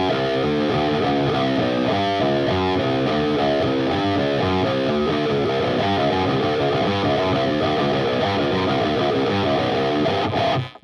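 Distorted electric guitar playing a chugging metal riff, with a looped hammer-on figure, loud and continuous for about ten seconds before stopping abruptly.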